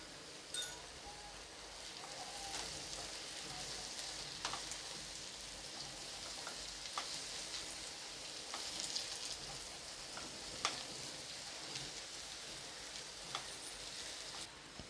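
Okra fries in a pan for Gujarati-style bhinda nu shaak, with a soft, continuous sizzle and scattered pops and crackles heard close up, without any talk.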